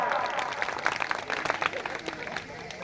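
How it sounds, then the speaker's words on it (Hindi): Audience applause at a Hindi talk on Ahilyabai Holkar and the Pala dynasty: a sustained wash of clapping from a crowd for about three seconds, fairly steady with a few louder bursts, with no speech over it. "तालियां एक बार जोरदार।"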